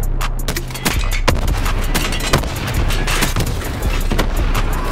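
Artillery strike in Call of Duty: Black Ops 4, a rapid run of heavy booming explosions and sharp impacts, loud and close, with a few distinct blasts standing out over a continuous rumble.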